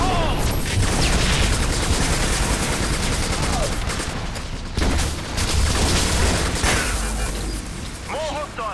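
Grenade blast and heavy rapid gunfire in the shooter game Section 8: Prejudice, a loud continuous barrage with sharp booms, while voices shout and talk over the fighting.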